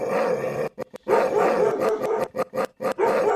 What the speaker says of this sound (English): and you could hear her barking